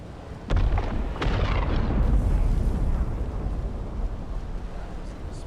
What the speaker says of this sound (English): Oh, I see where the spice explosion is.